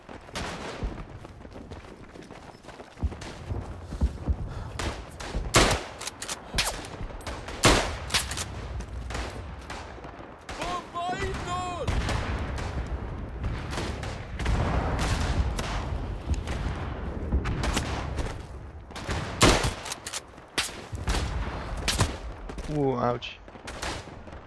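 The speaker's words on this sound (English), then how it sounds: "putting artillery on the next point" Rifle and machine-gun fire with distant artillery in the World War I shooter Tannenberg, scattered sharp shots and bursts at varying distances, with occasional deep booms, steady through the battle.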